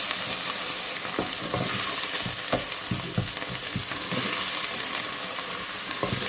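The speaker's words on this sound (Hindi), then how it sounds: "आराम से कुछ चलाना है।" Frozen spinach stirred into masoor dal sizzling in a pan, giving a steady close frying hiss broken by scraping stir strokes throughout, with no talking.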